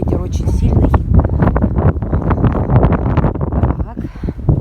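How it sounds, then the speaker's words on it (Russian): Strong gusty wind roars loudly and continuously into the microphone on a rural homestead with swaying trees, buffeting in rough surges with no clear pauses. "Ой, ветер очень сильный."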